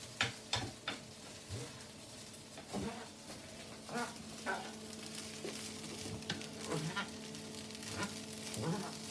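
Chicken fried rice with egg being moved around a pan, a low, steady sizzle punctuated by repeated sharp scrapes and knocks of a utensil at an irregular pace, fairly faint and without speech.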